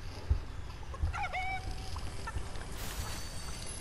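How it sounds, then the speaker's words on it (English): A chicken in the Fortnite video game gives a few short, chirpy clucks over steady game background noise, with no one talking. "No chicken, come back."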